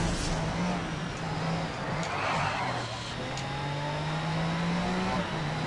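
Race car engine in the racing game GRID at Le Mans, a steady droning motor whose pitch holds and slowly climbs across the stretch, loud and continuous with a brief swell midway.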